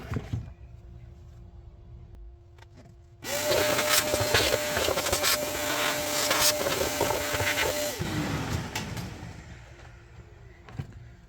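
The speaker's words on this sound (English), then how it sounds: "Take a vacuum and clean this out." A vacuum cleaner sucks debris out of the air filter housing of a 2019 Ram 1500 with a 5.7 Hemi. It is a loud, steady whine and hiss that switches on abruptly, runs for about five seconds, then cuts off.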